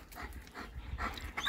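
A female white German Shepherd pants close by after playing in her pool, quick rhythmic breaths with a few faint whimpers mixed in.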